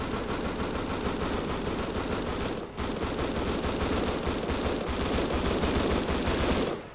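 Rapid automatic gunfire in the video game Rust, a dense continuous stream of shots with one short pause partway through, loud and sustained.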